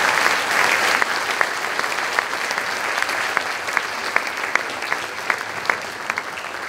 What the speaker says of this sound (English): How about one more round of applause for our eighth grade band?